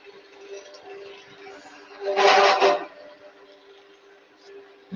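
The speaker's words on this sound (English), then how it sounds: "Sanding again." A power sander runs on stacked barrels in a brief burst of gritty, whirring abrasion lasting under a second, rising out of a quieter background hum and then falling away.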